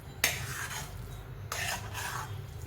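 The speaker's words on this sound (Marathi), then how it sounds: "आता हे छान परतून घेऊया मस्त" Sweet potato pieces cooked with sugar scrape and rasp in a pan, with two sharp metallic spoon strikes followed by softer stirring and rubbing and a faint background sizzle.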